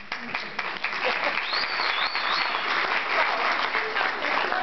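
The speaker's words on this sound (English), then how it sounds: "Let's applaud that." Audience at a human trafficking talk at Cooley Law School applauds in a steady, even burst of clapping that fills the room, with faint murmuring voices mixed in.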